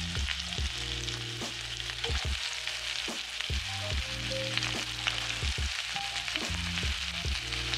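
Chopped onion dropped into hot oil with finely chopped garlic gives a steady, close sizzling hiss that runs the whole time beneath low, sustained background music.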